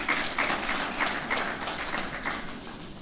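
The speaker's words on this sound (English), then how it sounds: "Please, a round of applause for him." An audience at the opening ceremony of a plenary session applauds in a soft, steady patter of many hands clapping, heard from a distance for the full three seconds with no voices.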